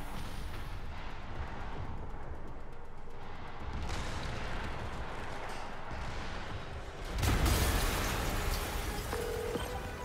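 A loud explosion erupts in Marvel's Spider-Man Remastered, a sudden broadband blast about seven seconds in that rises above steady rumbling game ambience and keeps roaring for several seconds afterward.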